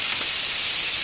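Bacon sizzles loudly in a pan for spaghetti carbonara, a dense, unbroken hiss held evenly throughout the short moment.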